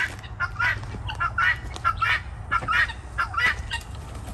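Geese and ducks honk and quack loudly in repeated bursts over a low, steady background rumble, from birds in a pen.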